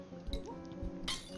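A pint glass breaking in Untitled Goose Game: a short, bright clink and shatter over a looping game soundtrack, with a second burst of glassy tinkling near the end.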